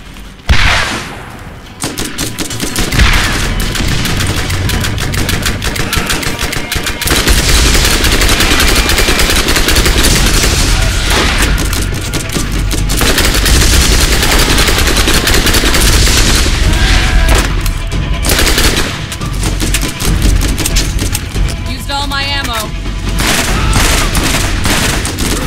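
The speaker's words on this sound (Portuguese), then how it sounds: "Esse maluco de metralhadora ali tá foda" Machine gun and turret fire crackle almost nonstop in a Borderlands firefight, loud rapid bursts with heavy booms mixed in, broken only by short pauses between volleys.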